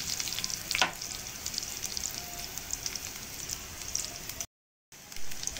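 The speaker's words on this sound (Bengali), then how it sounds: "দিয়ে এর মধ্যে আমি চিকেনটা তুলে দেবো ভাজতে।" Chicken frying in hot oil in a pan, a dense close crackling sizzle with a sharp spatter burst near the start, followed by a short silent gap before the sizzle returns.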